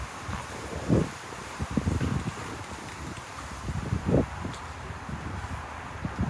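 Wind blows outdoors and buffets the microphone in low, rumbling gusts, with stronger swells near the start and middle, while a diecast toy car is being custom painted. No voices are heard.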